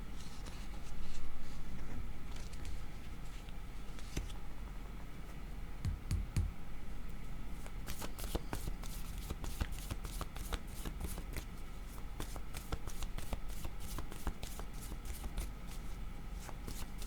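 Tarot cards shuffled by hand for a reading, a steady run of crisp riffling and clicking that grows into rapid repeated snaps in the second half, close and clear with no talking.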